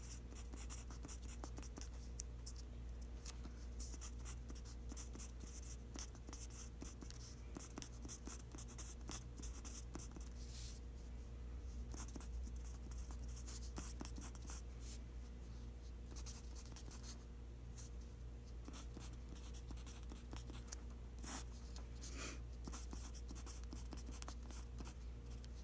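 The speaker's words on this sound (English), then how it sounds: "I'm going to go ahead and write that out." A pen scratches steadily across paper while a math series is written out, faint and close, in a continuous run of small strokes lasting the whole stretch with no voices.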